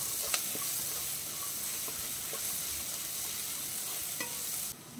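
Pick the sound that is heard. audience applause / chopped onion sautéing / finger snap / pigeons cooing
chopped onion sautéing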